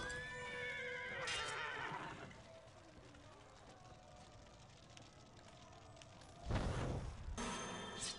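Horses in the fantasy strategy game SpellForce 2: Dragon Storm give loud, repeated whinnies with a soft clatter of hooves, and a voice talks at times.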